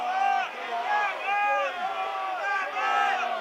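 A rugby crowd at a Randwick versus Manly first-grade match rises in a loud, sustained collective shout calling for an intercept, swelling and dipping in waves.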